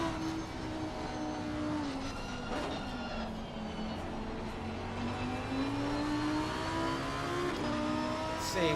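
Lamborghini race cars in a PS5 racing game at Bathurst during an endurance race, engines droning steadily with rising and falling pitch as they accelerate, a continuous loud whine throughout.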